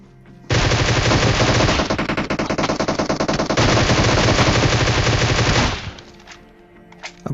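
Sustained automatic gunfire from a shooting video game during a one-versus-four fight, loud and dense for about five seconds before cutting off, with a few faint later sounds.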